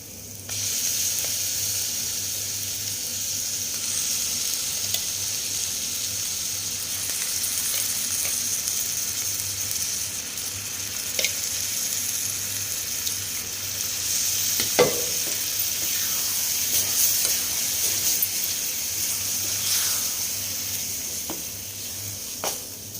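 Steady sizzling and frying in a hot pan as mustard greens are added to a garlic, onion and ginger tempering, continuous crackle with occasional stirring clinks, close and moderately loud, no voices.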